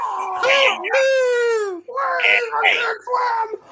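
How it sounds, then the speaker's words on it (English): Animated Fantastic Four cartoon scene of people in trouble screaming and crying for help, with loud overlapping wails and a long falling cry mid-way, close and continuous. "Listen to the screams, the cries. Those are people in trouble."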